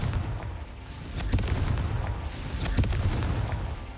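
Confringo explosion spell in Hogwarts Legacy, a video game: dull rumbling booms and thumps over a steady low background, with several muffled blasts spread across the moment.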